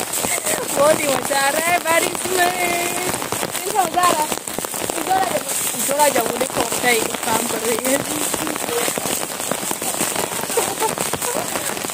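Heavy rain falls steadily on a surface with dense, continuous patter throughout, while voices talk over it.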